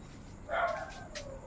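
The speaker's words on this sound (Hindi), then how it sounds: "जो बाहर का जो कुत्ता था वो भी भौंकने लग रहा है, ये देखिए वो भी भौंक रहा है।" A dog outdoors at night gives a single short bark, fairly faint and distant over quiet background noise.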